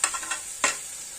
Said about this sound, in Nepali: अब टमाटरलाई पनि हामीले चलाउनु पर्छ